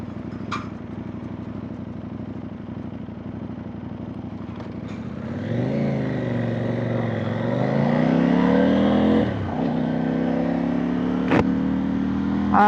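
A CFMOTO 800NK motorcycle engine idles with a steady low rumble, then revs up into a louder rising growl that holds and drops back, recorded close with no talking.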